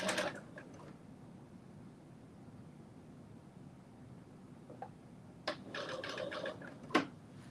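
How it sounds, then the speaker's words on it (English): A sewing machine running a long basting stitch, with a short whirring burst at the start and a couple more bursts near the end, quiet in between. "I'm doing a basting stitch"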